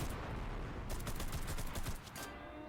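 Rapid gunfire in the Enlisted shooter game, a dense crackling burst of shots lasting about two seconds before cutting off, fairly faint under a busy background.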